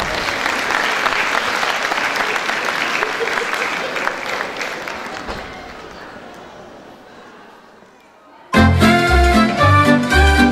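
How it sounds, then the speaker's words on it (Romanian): Audience applause at a Moldovan community Mărțișor cultural celebration in Portugal, loud steady clapping that gradually fades over several seconds before music abruptly starts. "Să o primim cu aplauze."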